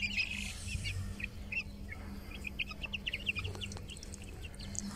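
A brooding hen and her chicks make soft clucks and high, scattered cheeping peeps close by, a steady low hum running underneath and no voices.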